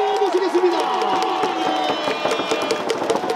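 Stadium crowd at a KIA Tigers baseball regular-season championship celebration, cheering and clapping continuously during a flower presentation, with a PA announcer's voice echoing over the dense crowd noise.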